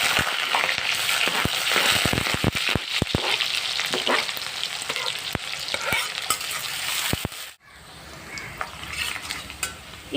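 Onion frying with mustard seeds in a pan for a mixed vegetable bhaji, with loud, crackling sizzle and rapid stirring scrapes that suddenly drop to a quieter sizzle near the end.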